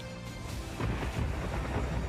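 Deep thunder rumbles over steady heavy rain during a monsoon downpour in Gujarat, a continuous low roar with a stronger rolling swell midway and no voices.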